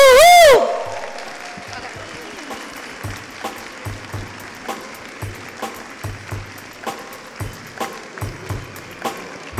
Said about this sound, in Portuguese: Vocês podem aplaudi-los agora que eles vão entrar, por favor?